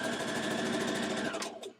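Sewing machine stitching a 5/8 inch seam on a dress in matching thread, a steady close-up rapid mechanical whir that runs alone and winds down to a stop at the end.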